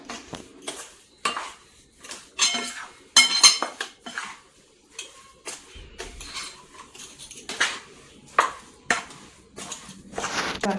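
Moong dal laddu mixture being stirred in a pan, a spoon clinking and scraping against the metal in uneven bursts, close and fairly loud, with no voices.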